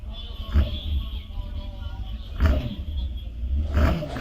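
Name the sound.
R1 Riot hillclimb car with R1 motorcycle engine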